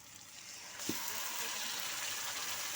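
Marinated chicken dropped into a pan of softened fried tomatoes, setting off a steady, faint broadband sizzle with a soft thump at the moment it lands, continuing evenly to the end.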